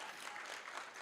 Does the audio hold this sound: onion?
no